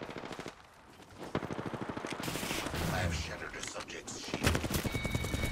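Rapid automatic gunfire crackles during a battle royale video game fight, bursts of shots overlapping in quick rattling runs, close and loud, while players talk over it.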